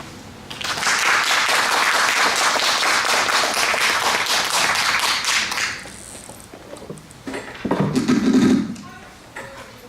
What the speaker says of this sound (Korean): 나오실 때 큰 박수를 부탁드립니다